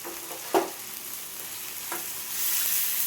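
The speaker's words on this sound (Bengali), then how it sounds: "মশলাটা ভালো করে ভেজে নেব।" Spices with turmeric and chili powder fry in a pan: a soft, steady sizzle with a couple of sharp spoon clicks, the hiss swelling toward the end.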